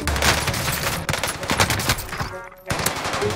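Rapid bursts of Owen submachine gun fire in a video game shooter, loud and dense, continuous rattling volleys with a brief gap near the end.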